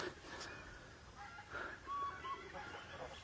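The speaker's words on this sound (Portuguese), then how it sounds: "Esse ali é o alarme de perigo das aves" Faint bird alarm calls ring out outdoors near agitated horses, a few short sharp squawks and clucking notes scattered over a low rumbling background.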